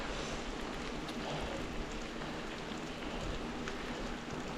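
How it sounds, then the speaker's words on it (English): Steady rain hisses down during a late-October mountain bike ride on trails in Eugene, Oregon, a dense, even wash of drops with no talking. "Seems like it's just gonna rain harder."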